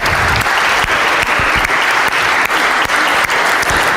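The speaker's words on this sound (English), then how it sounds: "So what about a round of applause for music and art teachers?" A concert audience at a Christmas tuba event applauds music and art teachers: steady, dense clapping from a large crowd, loud and continuous throughout, with a few sharper claps standing out.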